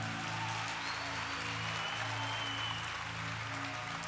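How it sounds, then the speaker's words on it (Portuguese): Church congregation applauding during a sermon, steady broadband clapping sustained throughout over a low droning organ or keyboard tone. "Dê uma forte salva de palmas"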